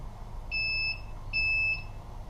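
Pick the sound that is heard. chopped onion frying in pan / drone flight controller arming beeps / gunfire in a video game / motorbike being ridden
drone flight controller arming beeps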